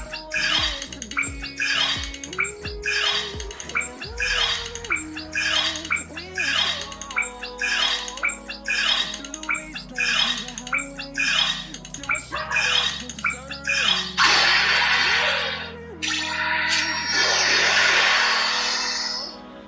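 Electronic sound effects from a Ben 10 Ultimatrix app play when it is tapped: a busy run of repeated synthetic squawks and warbling tones, loud and close, ending in a surge of noisy, hissing bursts.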